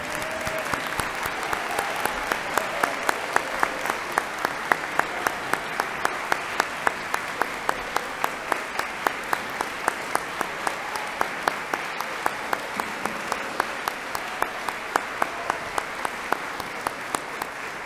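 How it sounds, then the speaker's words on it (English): A seated crowd in a gym at a university presidential installation ceremony gives a long, steady round of applause, with a few sharp, louder claps punching through the even clapping throughout. "Let's have one more round of applause for our 9th president."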